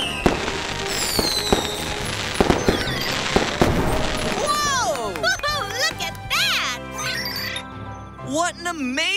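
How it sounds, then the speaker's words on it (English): Fireworks burst in a cartoon grand finale, a rapid series of sharp cracks and booms followed by rising whistles and crackling sparkles, loud and close, with children's voices calling out between the explosions. "Why are fireworks different colors?"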